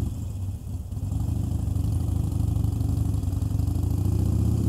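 A motorcycle with loud aftermarket exhaust pipes, out on an evening ride, rumbles steadily and close at a constant deep throb for several seconds with no voices.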